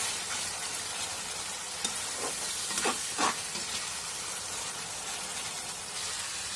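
Tomato puree and whisked yogurt sizzle in a pan for an egg lababdar curry, a steady broad frying hiss with a few brief louder crackles near the middle, close and alone.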